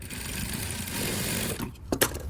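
A sewing machine runs close and steadily as it stitches a garment neckline to its facing, then stops near the end with a couple of sharp mechanical clicks.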